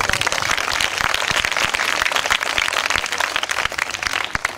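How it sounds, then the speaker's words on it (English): An audience applauds at a community school supply event for children in Abuja Municipal Area Council, a dense, steady patter of many hands clapping throughout, loud and continuous with no talk over it. "Can we applaud ourselves?"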